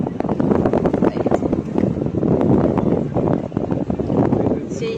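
Strong wind buffets the open deck of a river launch cruising the Sundarbans, a steady close rushing roar that fills the whole stretch, with voices faintly mixed underneath.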